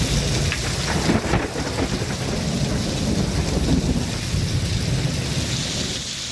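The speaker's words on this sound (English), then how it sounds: "Listen to this crackle of thunder we recorded about an hour and a half ago." Thunder crackles and rumbles through a severe storm over heavy, steady rain, a loud and dense wash of downpour with a sharper crack early on.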